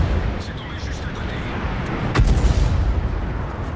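A Flakpanzer VIII Maus fires in World of Tanks with a sharp, booming shot in the middle of the clip that rises above a constant rumbling game soundscape, while a voice talks quietly beneath it.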